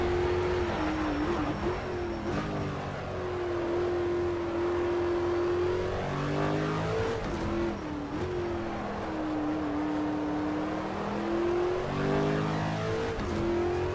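A video game racing car engine, an Aston Martin in Project CARS, hums steadily, its pitch rising and falling as it revs through gear changes, close and continuous with no talking.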